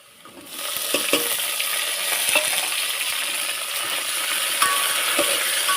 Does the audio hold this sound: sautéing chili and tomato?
yes